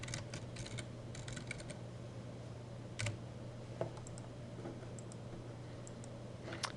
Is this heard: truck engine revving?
no